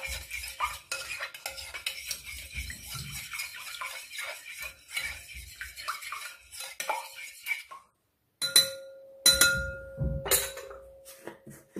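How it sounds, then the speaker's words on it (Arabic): A utensil stirs ingredients mixed with half a glass of oil in a bowl, giving close, uneven scraping and clinking, a short silence, then a few sharper knocks and clinks. "نحرك هادشي مزيان"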